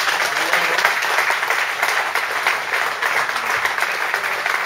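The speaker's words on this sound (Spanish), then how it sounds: "no se me ocurre otra cosa mejor para cerrar la tarde que darle otro fuerte aplauso" An audience at the close of a talk about Vitoria's bars gives a strong round of applause, a continuous even wash of clapping from many hands that holds steady from start to finish.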